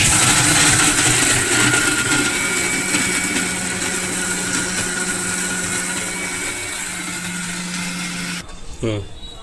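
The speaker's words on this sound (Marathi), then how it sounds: "चला आता आपण मिक्सरला लावून घेऊया तर हे बघा मिक्सरला लावून घेत आहे" A kitchen mixer grinder grinds ingredients for a Konkan-style crab curry, its loud, steady motor whine running for several seconds before cutting off abruptly near the end, with a voice talking over it.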